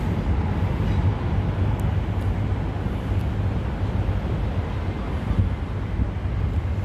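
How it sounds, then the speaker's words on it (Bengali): A train passes along an elevated track in Newcastle as a continuous low rumble and roar, steady and fairly loud throughout, with no talk. "এই যে ট্রেন যাচ্ছে"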